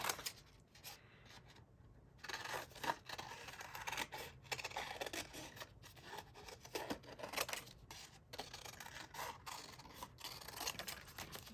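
Quiet, repeated snipping and rasping of scissors cutting through recycled greeting cards, with irregular cuts and paper rustling close by, with no talking.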